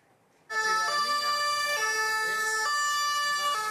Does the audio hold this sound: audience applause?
no